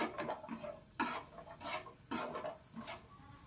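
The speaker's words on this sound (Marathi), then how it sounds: "थोडेसे काजू आहे तेही फ्राय करणार आपण." Cashews fry in a pan. Three or four rhythmic bursts of close stirring and scraping rise over a soft sizzle.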